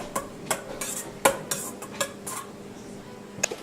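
Utensil stirring stuffing for a Christmas meal as broth is mixed in, a run of close, light clinks and scrapes against the bowl at an irregular pace, with no talking.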